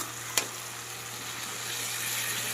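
A tomato masala mixture frying in a pan for a fish curry, giving a steady, soft sizzle throughout with one brief sharp tick near the start.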